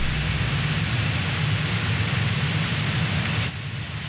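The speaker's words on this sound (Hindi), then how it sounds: "लखा का ये बेवकूफ विमान मुझे हरा नहीं सकता" A cartoon airplane's engine drones loud and steady as a continuous jet-like roar, dropping slightly just before the end.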